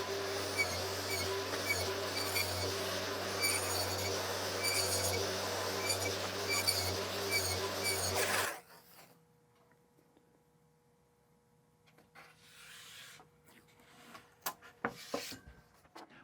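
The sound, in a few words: saw cutting rabbets in cabinet panels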